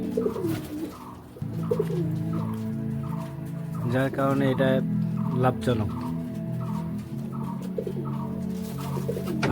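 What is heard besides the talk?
pigeons cooing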